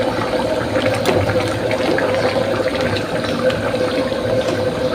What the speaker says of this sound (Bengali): এটা পানির পরিমাণ মতো দিচ্ছি আমি।